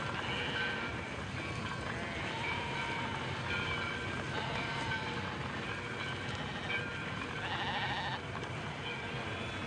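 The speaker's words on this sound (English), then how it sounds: "the silly sheep go in to get their throats cut" Several sheep bleat faintly over a loud, continuous rumble like a moving train, with calls scattered throughout, sheep being taken to a slaughterhouse.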